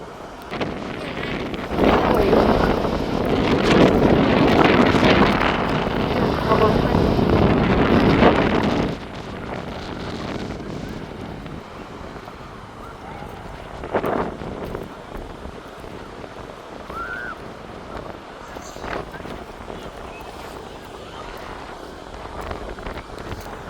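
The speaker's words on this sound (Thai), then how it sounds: "โอ้อ ลมแรงมาก" Strong gusty wind roars across the microphone on Bangsaen beach at low tide, loud and sustained for several seconds before easing to a softer, steady rush with brief gusts and faint shoreline noise.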